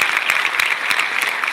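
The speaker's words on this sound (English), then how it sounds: "can you all give a huge round of applause to our panel?" Audience applause for a panel at a startup networking event, held in a hall: dense, steady clapping from a sizable crowd, fairly loud and close, with no one speaking over it.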